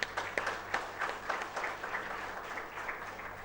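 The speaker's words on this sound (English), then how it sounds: "Congratulations, a big round of applause." Audience applause honouring award-winning students and faculty at a college annual day, a steady wash of clapping from a large crowd holding at an even level throughout.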